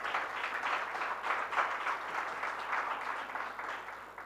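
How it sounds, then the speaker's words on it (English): An audience at a panel discussion gives a round of applause to the panelists, a dense, steady patter of many hands clapping at moderate distance for several seconds with no talk. "Please, a round of applause to my panelists."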